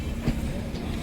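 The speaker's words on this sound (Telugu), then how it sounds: "First overtake with parallel running." A Ratnachal Express LHB train runs alongside on a parallel track, a brief, moderately loud steady rumble with rail clatter and no voices.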